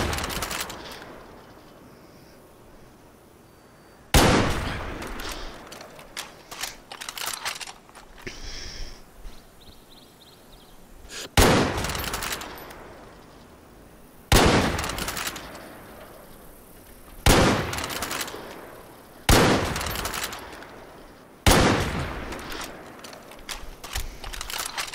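Gunfire in the shooter Far Cry New Dawn: six or seven loud, sharp single shots spaced a few seconds apart, each followed by a decaying echo over a quiet outdoor background with faint bird calls.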